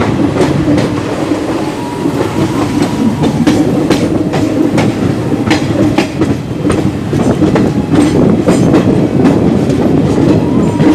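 An Indian Railway train travels from Rourkela toward Dumerta station through the Saranda jungle area. Its steady, loud rumble fills the whole stretch, with a rhythmic clickety-clack of wheels on rail joints and no talking.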